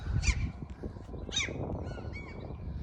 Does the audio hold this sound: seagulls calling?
yes